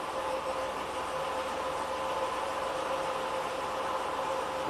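A Pontiac engine idles steadily around 800 RPM, a low continuous hum with a faint even rumble, close and unchanging throughout.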